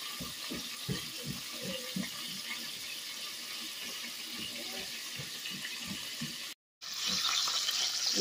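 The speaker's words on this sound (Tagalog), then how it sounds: "Dito tayo magluluto ng itlog sa malaking kawali." Egg frying in oil in a large pan, a close steady sizzle with crackling pops and stirring scrapes, a brief drop out near the end before the sizzle returns louder.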